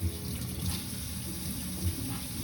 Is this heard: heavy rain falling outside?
no